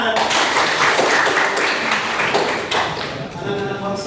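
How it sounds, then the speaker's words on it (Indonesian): Children applaud in a classroom, with loud, dense clapping running throughout alongside voices. "Ya, tepuk tangan."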